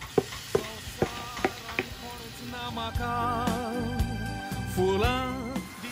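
Chopped squid heads drop into hot oil and fry, with a few sharp stirring knocks at the start followed by sizzling under a faint tonal background.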